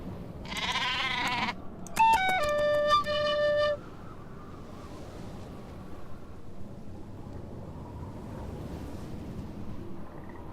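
A couple of sheep bleat loudly and close in the video game Nancy Drew: The Haunting of Castle Malloy, one wavering cry followed by another, then fade to a quiet rumbling background.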